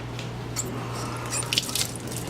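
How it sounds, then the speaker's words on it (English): A tomato is rinsed under water in a Trinidad home kitchen: soft wet squishes and a few drips and splashes over a steady low hum, fairly quiet and close. "Let's wash this tomato."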